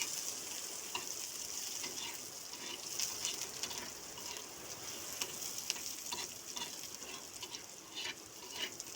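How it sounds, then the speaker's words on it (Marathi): Onion fries in hot oil and is turned repeatedly, giving a soft, steady crackling sizzle with light scraping stirs at close range and no voices. "चांगलं तेल हे केल्यानंतर चांगला हलवून घ्यायचा कांदा उलटा पालटा करून जेणेकरून तो जळायला नाही पाहिजे"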